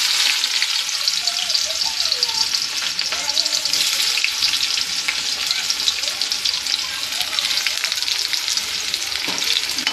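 Onion and garlic sizzle steadily in hot oil, a dense, close frying crackle with occasional stirring scrapes running unbroken throughout.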